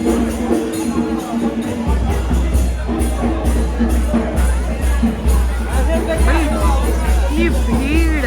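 A large crowd at a New Year celebration in New Zealand fills the air with loud, constant hubbub and overlapping chatter, close voices standing out over the general murmur of the gathering.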